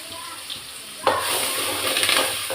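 Green chillies, tomatoes and garlic sizzle in a pan with oil, first quietly, then a sudden louder burst of frying as they are stirred, with scraping, rustling bursts continuing.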